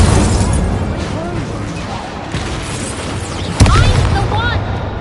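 Incendio fire spell from Hogwarts Legacy, loud whooshing fiery bursts and booms amid a hectic game battle, with voices and shouting over the effects.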